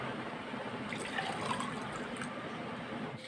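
Water pours into a cooking mixture in a continuous, fairly close splashing stream with no pauses.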